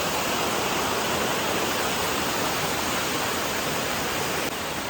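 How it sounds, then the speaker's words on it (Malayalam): A waterfall in dense, uninhabited forest roars as a loud, steady, unbroken rush of broadband water noise, close and unchanging throughout with no voices over it. "സൂപ്പർ വെള്ളച്ചാട്ടമാണ്."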